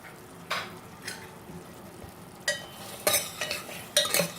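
A spoon scrapes and knocks in a pan in short, irregular strokes while frying dried lentil dumplings, with a faint sizzle underneath between the stirs.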